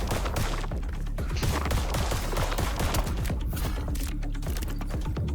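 Rapid gunfire aimed at flying enemies in the video game Void Breaker, a loud, continuous stream of close shots in quick succession with no pauses, heard alone.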